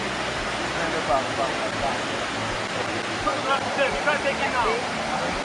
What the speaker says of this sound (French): Deux chutes impressionnantes, la femelle et le mâle qui tombent d'une hauteur de 82 mètres au milieu d'une forêt tropicale